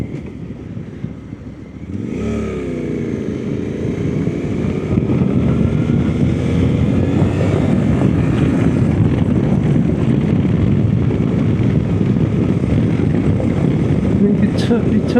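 A Suzuki V-Strom 800 RE motorcycle rounds a roundabout, its engine note climbing and holding steady under wind rush, close to the rider.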